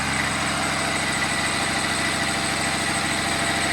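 A Cummins test engine idles on Hythanol fuel, a steady, loud, continuous rumble with a constant vibrating drone and no change in speed.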